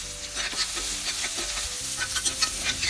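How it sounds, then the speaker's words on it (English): Onion frying in a tablespoon of oil in a pan, a steady close sizzle with repeated stirring scrapes throughout, no voices. "Fry till it is slightly golden brown"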